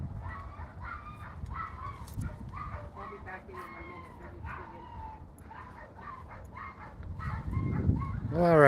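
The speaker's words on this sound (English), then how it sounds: "You hear the crazy dogs." Several dogs bark and yip repeatedly in the distance outdoors, a busy overlapping chorus that continues throughout, with a louder rustle or gust near the end.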